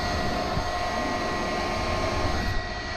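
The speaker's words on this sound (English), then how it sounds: "So we're gonna hook up the vac, start vacuuming some of these" Shop vacuum running steadily during removal of a massive honey bee hive under a floor, a loud continuous motor whine and airflow rush throughout, close by with no talking.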